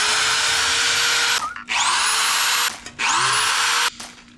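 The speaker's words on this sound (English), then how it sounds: "If you have a wire wheel like on a grinder, those work really well." A wire wheel on a grinder scours gasket material off a steel oil pan during a Toyota Camry service, a loud, harsh whirring grind in three bursts separated by brief pauses as the tool spins down.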